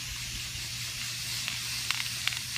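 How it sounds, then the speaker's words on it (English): A continuous hissing spray from an orange aerosol spray paint can onto a bottle, steady and fairly close, with a low hum underneath and a few brief bursts near the end. "I'm just gonna spray paint it."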